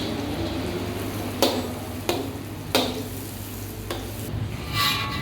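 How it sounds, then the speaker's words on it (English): Ingredients sizzling in hot oil and butter for a mala hotpot base, with a steady fry hiss and a few sharp stirring clinks spaced through the clip. "We fry until the fragrance come out and change to brown color."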